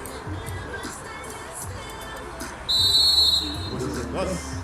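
A referee blows a loud, sharp whistle lasting under a second to start a community football cup match, heard over outdoor crowd murmur and distant voices.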